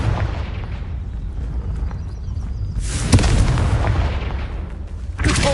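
Fire-spell explosions in the Hogwarts Legacy video game: a loud, booming blast bursts out around the midpoint and rumbles on, then a second sharp blast erupts near the end, over a constant low game rumble.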